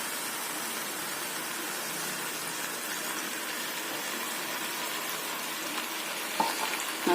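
Water poured into a pan of sautéed chicken curry masala gives a steady, close sizzling hiss that runs evenly throughout, with a brief clatter near the end.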